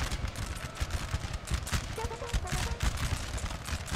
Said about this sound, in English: we'll shoot down the remaining Spaniards with the muskets